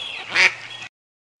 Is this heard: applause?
no